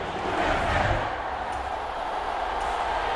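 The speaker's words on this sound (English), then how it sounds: "And the home crowd applauding. They're happy with what they've seen." Home crowd applauds in the Madden NFL 23 football video game during a Saints vs. Chargers match: a steady wash of stadium applause and cheering, loud and continuous throughout.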